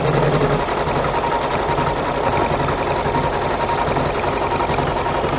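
An embroidery machine stitching out an in-the-hoop vinyl zippered straw holder pouch, a dense continuous mechanical hum and rapid needle chatter, steady and loud throughout with no pauses.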